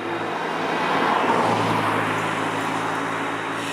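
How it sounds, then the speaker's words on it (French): Near a seaside restaurant, a single car passes close by with a steady broadband rush that swells around the middle and then eases off, heard alone. "il y a une voiture qui passe"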